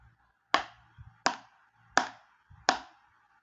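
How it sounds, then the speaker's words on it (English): A sled drum is struck four times at an even, unhurried pace, each hit a sharp, close knock that fades quickly, with softer taps between strikes. "Ah, that's the sound of a sled drum"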